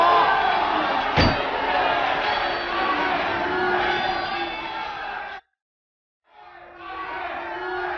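A rowdy crowd of Scottish clansmen brawling in an animated Brave story, a loud, dense mix of shouts, battle cries and cheering that cuts out suddenly and then returns.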